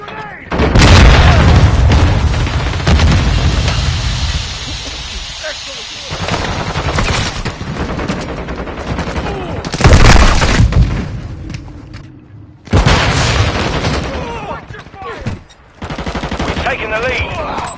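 Grenade explosions and rapid gunfire in a Call of Duty Modern Warfare 2 deathmatch, loud booming blasts and bursts of shots repeating across the clip, with a voice calling out over the combat.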